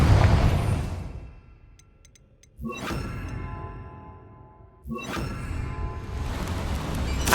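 Confringo fire-spell explosions from Hogwarts Legacy go off twice, each a sudden whooshing burst followed by a crackling, ringing decay over a rumbling game background.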